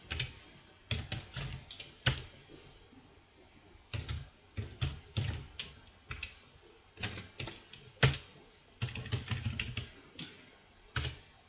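Someone types employee details into a Microsoft Access table on a keyboard, the clicks arriving in uneven bursts of rapid keystrokes with quiet gaps between them, close and clear with no talk.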